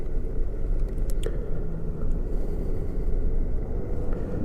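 Varla Eagle One dual motor electric scooter pulling away, a steady loud rumbling whir of motors and wind buffeting a close microphone, continuous with no speech.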